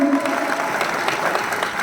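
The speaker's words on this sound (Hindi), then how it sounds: "एक बार जोरदार तालियां होना चाहिए" Audience applause at a talk, a short burst of clapping from a gathered crowd holding steady loudness, with a voice faintly present at the very start.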